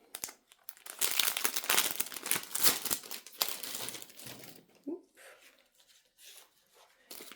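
Crinkling and tearing of a mailed parcel's packaging as it is opened, with stickers and glitter inside, a dense run of close rustles and crunches that thins out toward the end, with some talk.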